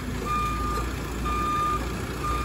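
Reversing beeps from a wireless crawler machine backing up in a shop, a steady evenly spaced beep pattern over a low engine rumble.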